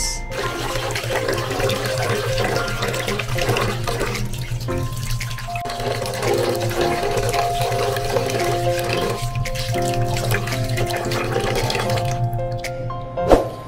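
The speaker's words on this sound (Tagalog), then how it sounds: "ang una tayong gagawin is hugasan muna natin yung malagkit na bigas. Hugasan po natin siya ng 2 beses" Glutinous rice washed in water in a kitchen: continuous close running and sloshing water with faint clinks and splashes throughout.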